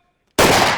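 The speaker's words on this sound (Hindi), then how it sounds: "सामने कानून के एहलकारों को पाते ही अंधाधुन गोलियां बरसाने लगा।" Sudden loud burst of indiscriminate gunfire from a criminal firing at police officers at a doorway, a dense crackling blast that begins abruptly after near silence and stays loud.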